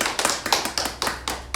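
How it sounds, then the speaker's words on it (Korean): A church congregation gives a short burst of applause to welcome a new visitor during a morning worship service, a quick run of sharp, close claps from a small group, with no talk. "박수로 환영할까요?"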